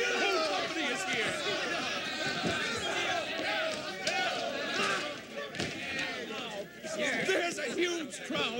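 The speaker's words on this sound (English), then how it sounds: "There's a huge crowd! The whole city knows of your triumph." A large, dense crowd chatters and murmurs continuously at close range while voices talk through it, with occasional thuds and footsteps in a busy gathering cheering a hero in a theatrical city scene.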